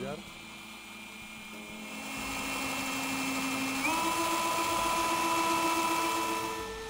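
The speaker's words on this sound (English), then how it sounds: "Let's try with the extractor drill." Cordless drill with a screw extractor bit spinning in reverse on a stuck, damaged screw, a steady whirring motor tone that rises in pitch partway through and keeps running continuously at close range.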